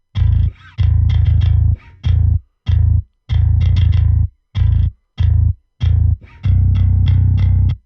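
Bass guitar played through the clean amp setting of the Eurobass II plugin, loud, close notes in short phrases separated by brief gaps, with no talking.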